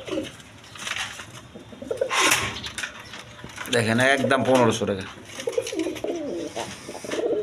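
Pigeons kept for sale at a market stall coo in low, soft bursts under someone talking loudly in Bengali, with chatter and background voices around them.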